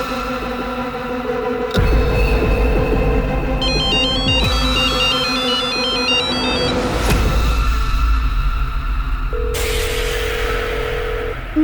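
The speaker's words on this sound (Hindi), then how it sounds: "जबकि फोन अंदर बज रहा है" A telephone rings on and on inside a locked room, a loud electronic ringtone whose warbling tone pattern changes partway through, steady and close, with no voices.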